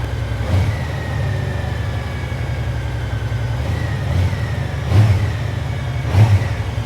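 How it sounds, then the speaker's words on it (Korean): A big 1800cc Gold Wing motorcycle engine idles loudly up close, then is revved in several sharp bursts spaced a second or so apart. "엔진이 1800cc 골딩 엔진이라고 보시면 됩니다"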